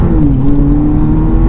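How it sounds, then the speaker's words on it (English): A Mini Cooper S pulls away from a junction on a main road, its engine droning loud and close with a steady low hum that rises slightly in pitch as it accelerates. "So we're just going to give it a nice little pull off the lights"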